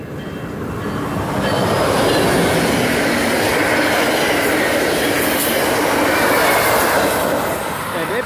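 Amtrak San Joaquins train 713, northbound, led by an SC-44 locomotive with an NPCU cab car, rolls past close by. A loud, steady roar of wheels and rail noise swells and then eases slightly, with no talking.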